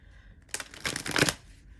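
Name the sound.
shuffling a deck of tarot cards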